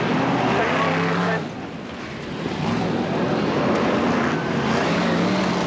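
BriSCA Formula 1 stock cars racing at Boston in 1991, a steady loud engine roar from several cars circling the track, briefly dipping then swelling again as the pack passes, heard from the stands.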